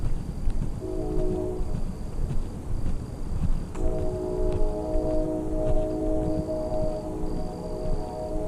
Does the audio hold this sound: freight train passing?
yes